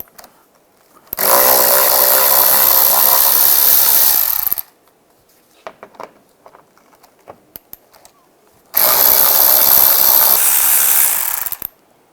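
A power ratchet or impact tool with a 10mm socket removes bolts on a 2010-2015 Toyota Prius during inverter radiator work, in two loud whirring bursts of a few seconds each, separated by quiet handling clicks.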